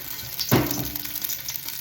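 Grapeseed oil poured into a hot pot: a brief splashing pour followed by a soft steady sizzle, close and moderately quiet.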